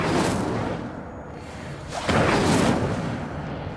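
A fire spell cast in Hogwarts Legacy: a broad roaring whoosh with a sharp onset partway through, swelling into a sustained fiery rush, with a softer burst just before it.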